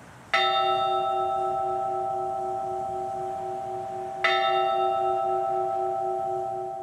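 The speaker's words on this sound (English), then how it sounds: "At this time, we will ring the bell." A single memorial bell is struck twice, several seconds apart, each clear tone ringing out and slowly fading with a long sustained hum.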